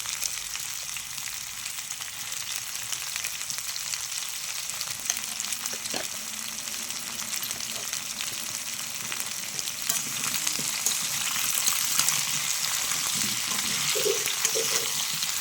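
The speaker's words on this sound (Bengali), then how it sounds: "অল্প করে দিয়ে আমি একটু ভেজে নিচ্ছি" Continuous close sizzling of taro and potatoes frying in a pan, with a few stirring clinks, growing slightly louder toward the end.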